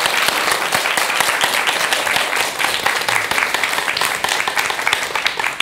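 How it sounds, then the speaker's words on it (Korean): Studio audience applause for a Buddhist monk at a televised Korean Buddhist talk show, a dense, steady clatter of many hands clapping, loud and sustained throughout with no talk over it. "오늘 좋은 말씀 해주신 스님께 여러분 큰 박수 부탁드립니다"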